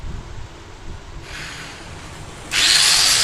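A power grinder works the welds on a steel bush clamp tool: a hissing grind starts partway through, then swells into a loud, steady, close whine to the end.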